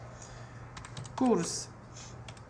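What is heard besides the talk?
typing on a computer keyboard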